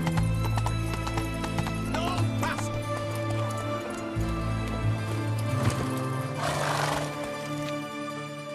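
Video-game horse hooves clip-clop steadily and close while the animal whinnies, all over a dense bed of game music and ambience, with a voice briefly urging the horse on.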